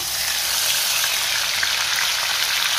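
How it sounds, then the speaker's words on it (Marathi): Ground masala paste of raw onion and tomato fries in hot oil with sautéed garlic for a rohu fish curry, giving a loud, steady, dense sizzle close by with no talking. "त्यात आता आपल्याला हे जे वाटण आपण तयार केले ते घालायचे"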